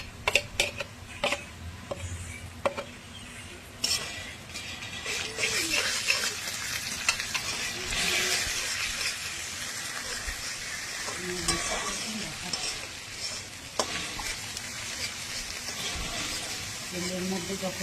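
Chopped onion with ginger-garlic paste frying in hot oil in a home kitchen pan, a steady sizzle with repeated scraping stirs and occasional clanks against the pan, sustained for nearly eighteen seconds.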